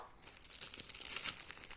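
Thin plastic magazine packaging crinkles and crackles as it's pulled open, a steady close rustle with a few sharper snaps.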